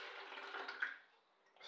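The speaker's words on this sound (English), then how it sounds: "Now pour the coconut water into the" Coconut water pours into a sieve in a kitchen as a soft, splashy gush that swells, then thins to a faint trickle and stops near the end.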